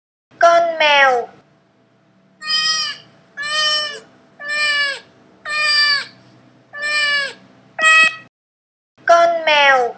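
A domestic cat meows six times in a steady rhythm, each meow short, clear and close, with brief pauses between them and a short spoken voice before and after.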